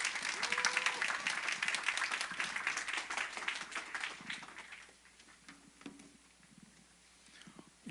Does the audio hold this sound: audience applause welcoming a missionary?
yes